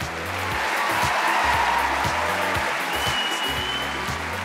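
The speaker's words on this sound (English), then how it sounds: "Give them a round of applause." A Britain's Got Talent audience applauds a performance with a steady wash of clapping. It runs under loud, thumping rhythmic music throughout.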